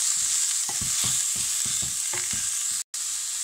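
Chopped red cabbage with salt stirred in a hot pan, about eight rhythmic spatula scrapes against the metal over a constant soft sizzle, ending with a short silent break.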